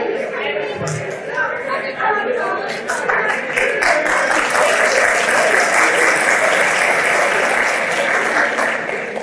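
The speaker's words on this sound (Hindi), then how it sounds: "और ये तालियां क्यों बजा रहे हैं?" An audience in a university hall breaks into sustained applause, hands clapping thick and loud after a moment of talk, continuing steadily to the end with chatter mixed in.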